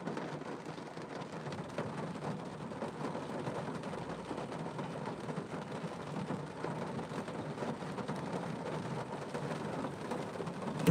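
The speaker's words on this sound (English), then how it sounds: "The rain came out of nowhere" Heavy rain falls in a sudden downpour, a dense steady hiss with low rumbling thunder underneath, heard quietly and without speech.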